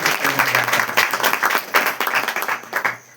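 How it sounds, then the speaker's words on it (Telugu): Church congregation applauding during a Telugu sermon on Genesis, dense steady clapping filling the room for about three seconds with no talk over it. "ఒకసారి చప్పట్లు కొట్టండి"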